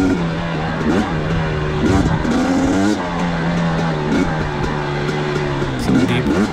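A KTM 250xc dirt bike ridden on a loose, wet singletrack trail, its engine droning loud and close with steady pitch swings as the rider works the throttle, and voiceover speech over it.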